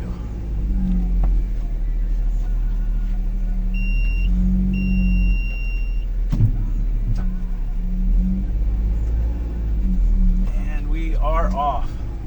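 An old car rumbles along with a steady low engine drone, a few faint beeps and clicks, and someone speaks briefly near the end.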